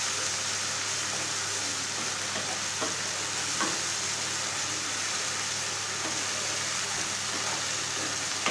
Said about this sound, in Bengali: এই বাদামের পুরোটা আমি এর সাথে অ্যাড করে দেব।